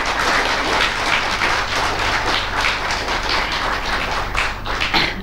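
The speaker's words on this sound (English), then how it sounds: "I think he deserves a louder applause." Audience applause for a poet at a poetry prize ceremony, a dense, steady wash of many hands clapping that holds strongly throughout with no voices over it.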